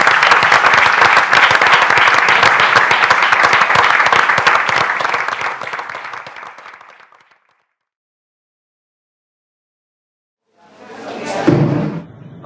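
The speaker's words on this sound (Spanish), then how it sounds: "Yo pido un aplauso para Ovas." A crowd at an art project presentation gives loud, dense applause that tapers off over several seconds into silence, followed by a single muffled thump near the end.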